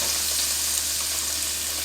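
Butter melts in a frying pan with a soft, constant sizzle, close by and steady through the short stretch, with no speech.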